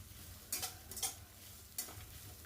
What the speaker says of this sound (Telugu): కొబ్బరి వేసిన తర్వాత కొంచెం ఫ్రై చేయండి